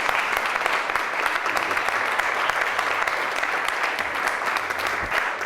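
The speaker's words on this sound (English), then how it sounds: "to a thunderous round of applause from the audience" A theatre audience applauds a magic trick with steady, dense clapping that stays even and loud from start to finish.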